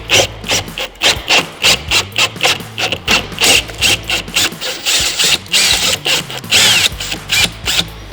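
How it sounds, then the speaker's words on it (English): A 21/64 drill bit finishes a hole in a switch box bracket for a Ford F-150, giving a close, loud rasping grind that pulses in a steady rhythm of short bursts, roughly two per second. "we've got our 21/64 drill bit, and we're just gonna finish this hole off."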